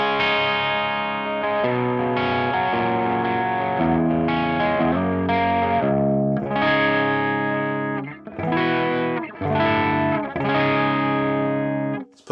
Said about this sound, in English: So let's have a listen to the overdrive.